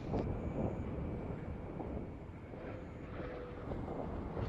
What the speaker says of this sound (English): And nose gear touchdown.